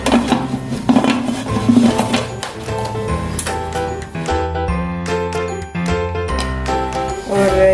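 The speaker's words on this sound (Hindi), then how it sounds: "अब हम कुकर को बंद कर लेंगे।" A metal pressure cooker lid is fitted and closed, giving a series of close metallic clinks, scrapes and ringing tones spread over several seconds.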